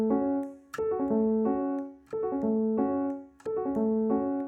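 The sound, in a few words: guitar downward arpeggio of sixteenth-note triplets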